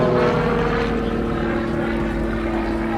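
Tutor training aircraft performing an aerobatic display at the Southport Airshow 2024, a continuous loud propeller engine drone holding steady throughout, with no voices.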